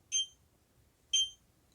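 Two short, bright electronic beeps about a second apart from a SimpliSafe security system motion sensor, fairly quiet against a faint background hum, with no voices.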